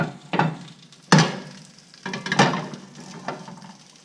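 Pecan-crusted speckled trout fillets fry in a hot pan, with a steady close sizzle broken by a few louder crackling bursts as the fillets go down.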